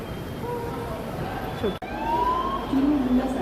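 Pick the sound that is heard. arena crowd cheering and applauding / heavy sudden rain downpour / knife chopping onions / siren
siren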